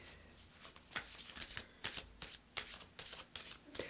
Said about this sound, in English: I'm going to pull one of these cards too